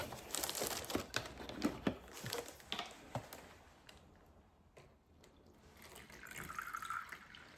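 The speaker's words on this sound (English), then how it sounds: "Add my water to it, and then we mix it." Water pours into a mixture in a kitchen bowl, starting with clattering and splashy bursts, then fading into a softer trickle with faint rustling near the end, with no one speaking.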